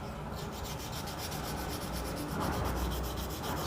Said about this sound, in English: So you use that 600 to round it off. You can see as soon as you start sanding, the nubs go white